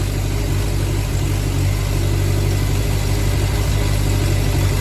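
A Suzuki GSX 600R motorcycle engine, losing power, runs unevenly at a steady low rumble, straining and rough without clear revving, continuous throughout.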